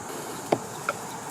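Honey bees buzz softly and steadily at a hive, with a couple of brief louder clicks or taps standing out close by.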